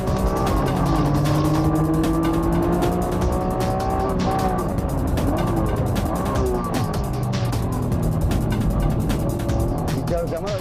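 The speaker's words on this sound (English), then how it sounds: "the NSX-R, which only had its tires changed to slicks, was way faster than the others" Honda NSX-R on slick tires and a Nissan GT-R racing around a track's tight infield corners, engines droning loudly and continuously with shifting pitch throughout, under a voice talking.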